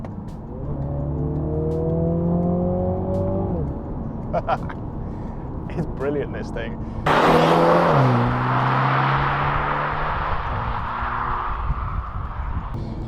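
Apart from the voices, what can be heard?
MINI Clubman JCW engine accelerating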